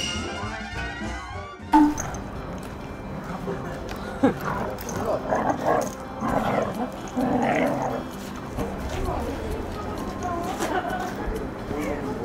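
Several dogs scuffle over a piece of wood, with close growls, yips, whimpers and short barks running continuously through a busy, noisy stretch.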